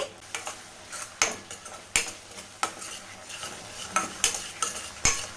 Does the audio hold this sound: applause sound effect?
no